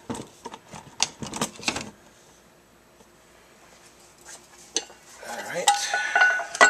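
A bamboo stalk has its top cut off, with close scraping, tapping and knocking noises in irregular bursts, a quiet stretch in the middle, and louder rasping cutting near the end.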